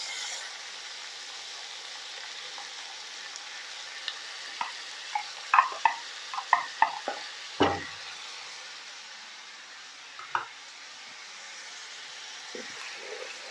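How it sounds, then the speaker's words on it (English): Chilies stirred into onions and tomatoes frying for biryani: a steady soft sizzle runs throughout, with scattered spoon scrapes and clacks clustering in the middle and a few later, no talk. "To the onions and tomatoes, I want to add the chilies."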